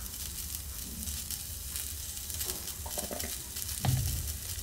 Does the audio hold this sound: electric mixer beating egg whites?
no